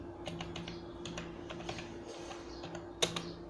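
City names are typed into MS Word on a computer keyboard, with soft, close, irregular key taps over a low steady hum and one sharper keystroke near the end.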